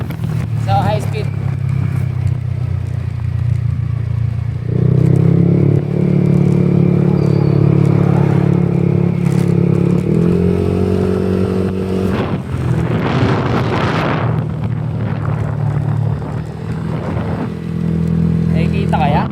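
A Yamaha Aerox V3 scooter with a bolt-on setup runs at high speed, its engine a loud, continuous drone that shifts pitch as revs drop, with wind rumble and someone talking over it.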